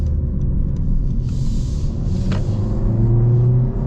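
A 2026 Honda Civic Hatchback with a 150-horsepower engine accelerating, heard from inside as a loud steady rumble with engine tone rising toward the end.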